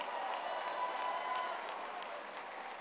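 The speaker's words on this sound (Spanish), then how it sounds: "¡Un aplauso fuerte!" Distant crowd clapping at a public government event in Durango, Mexico, a continuous even wash of applause that fades slightly toward the end.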